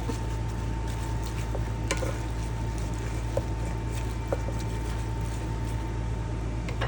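Squash blossoms being stirred into a boiling pot of garden vegetables, with soft scraping and occasional light clinks over a continuous bubbling, simmering bed of sound.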